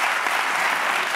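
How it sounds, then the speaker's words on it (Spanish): Dense studio audience applause on a late-night Spanish talk show, a steady wash of many hands clapping at once, loud and continuous with no talk over it. "hay un sí, aplauso sí"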